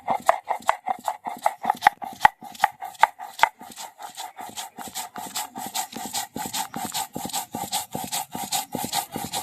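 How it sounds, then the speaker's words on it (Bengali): Black and white mustard seeds, poppy seeds, green chili and salt pounded together by hand, a fast, steady run of close knocking strikes with a scraping edge, no voices. "কালো সর্ষে, সাদা সর্ষে, পোস্ত, কাঁচা লঙ্কা আর লবণ একসাথে আমি বেটে নেব"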